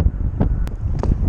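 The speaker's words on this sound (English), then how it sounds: "super windy out here." Strong wind buffeting the microphone in heavy low rumbling gusts while fishing outdoors, with a few brief knocks and clicks over it.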